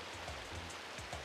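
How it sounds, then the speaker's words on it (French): Cartoon acid rainstorm, a faint, dense steady hiss of heavy rain falling, with soft low rumbling underneath, heard alone. "Il est violent, cet orage."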